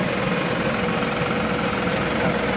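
A Mahindra 6075 tractor engine idles steadily nearby, a constant low rumbling drone with even vibration and no change in pace.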